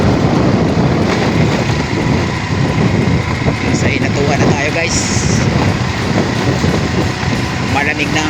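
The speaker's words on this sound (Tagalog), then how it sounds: "Malamig ang simoy ng hangin" Strong wind roars steadily across the microphone throughout, a loud low rumble with a faint voice in the background.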